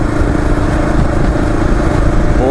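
A Kawasaki KLR motorcycle on a commute to work, its engine droning steadily and loudly throughout with rumbling low end and wind noise, no talking.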